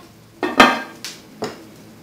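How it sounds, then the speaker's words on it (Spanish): A utensil stirs pork with nopales in chile colorado in a pot, giving a few sharp metallic clanks and scrapes against the pot, close and loud, spaced about half a second apart. "Voy a revolver un poquito para verificar que no se vaya a pegar"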